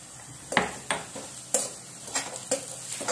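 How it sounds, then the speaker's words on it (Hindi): Spice masala with onion frying in oil in a pan, a steady sizzle broken by repeated sharp spoon scrapes and clinks against the metal at an uneven rhythm, close up. "तो बस इस मसाले को थोड़ा सा प्याज के साथ तेल में थोड़ा सा भून लूंगी।"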